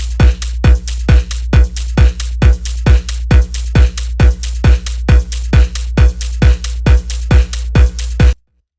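An old electronic music track plays with a pounding kick drum on every beat over a deep sustained bass, steady four-on-the-floor pulse for about eight seconds before an abrupt cut to silence, loud and without voices.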